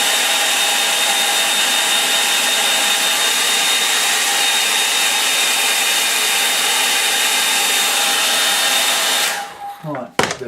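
A hair dryer blows continuously and loudly up close over a line-and-wash watercolour painting for about nine seconds, then switches off, leaving brief handling clatter.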